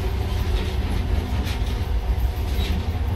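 Monorail train running on its rails in the video game Metro: Last Light, a steady loud low rumble with faint rattling, continuous and close throughout with no talking.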